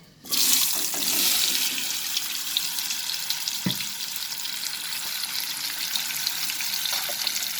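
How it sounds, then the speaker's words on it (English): Raw papaya pieces dropped into hot oil burst into a loud, dense sizzle that settles into a steady close frying hiss with a brief stirring clink. "once the oil is heated, we will add the papayas into it."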